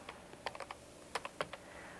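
Several separate keystrokes on a computer keyboard, quiet and close, tapped in an uneven rhythm with short pauses between them.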